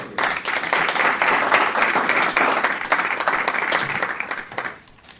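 An audience at a Toastmasters evening meeting bursts into steady, dense applause to welcome a speaker, holding strong for several seconds before fading out at the end.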